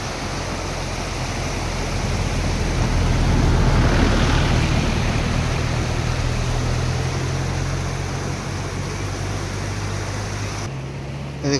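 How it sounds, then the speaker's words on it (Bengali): Water flowing through a gap beneath a bridge on a rural nature trail in Bankura district, a steady broadband rush that stays constant and fairly loud throughout, with no voices. "সেই জোড় দিয়ে জল বয়ে চলেছে"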